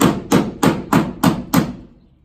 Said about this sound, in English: We're going to use the Kiko slapper at the top so we don't cause any additional damage to the paint.